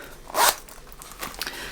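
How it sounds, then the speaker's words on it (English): A zipper pull on a Louis Vuitton pouch is handled, giving one sharp close zip rasp followed by a few lighter clicks and rustles. "it's got the zipper pull here"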